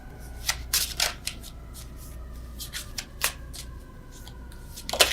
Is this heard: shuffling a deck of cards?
yes